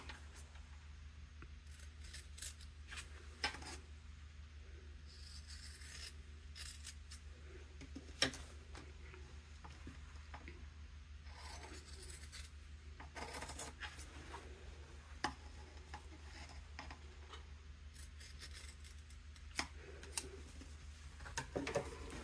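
Scissors cutting fabric pattern pieces for a tote bag, scattered snips and rustling handling sounds at a quiet, close level, with pauses between cuts.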